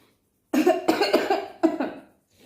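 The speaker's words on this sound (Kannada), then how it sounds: "ಕೆಮ್ಮು ನಿಂಗೆ ಕೆಮ್ಮು ಎರಡು ಕೆಮ್ಮು" A young child coughs three times at home in the morning, loud and close, with short gaps between the harsh bursts, then near silence.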